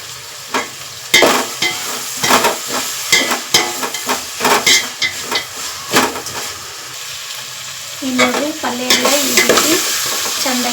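Masala paste stirred into vegetables frying in a pan for vegetable pulao, with repeated close scraping strokes of a spoon in a loose rhythm over a soft sizzle.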